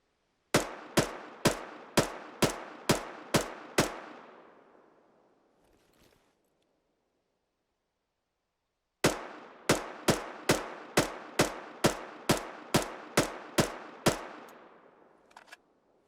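Weapon fire in Arma 3 comes in two runs of about eight evenly paced single shots. Each run is sharp and loud with a ringing tail, and the runs are separated by several seconds of near silence.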